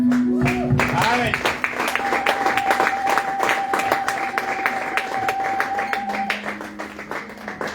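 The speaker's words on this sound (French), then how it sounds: "On va acclamer très fort." Church congregation applauding loudly during a worship service, a dense run of rhythmic clapping under a sung or spoken voice holding a long tone, fading slightly at the end.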